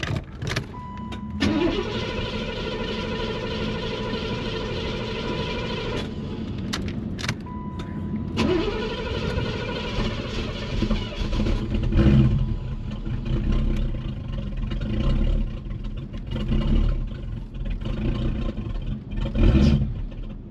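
A C4 Corvette with a faulty idle cranks and starts, then runs roughly with uneven, surging engine tones, dipping and revving as it struggles to stay running; close and fairly loud, with a brief clink of keys near the start.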